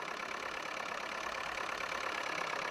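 A tractor engine in Farming Simulator 22 on a British farm, running in a steady, even drone at an idle with no break, fairly quiet and alone with no talk.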